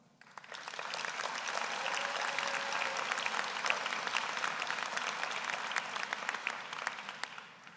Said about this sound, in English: I'd actually like to take a moment to give yourselves a round of applause